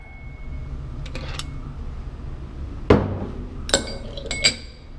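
A small metal centrifuge rotor is lifted out, giving a few sharp metallic clinks and knocks, with a louder bang near the middle and quick clatters after it, over a low background hum.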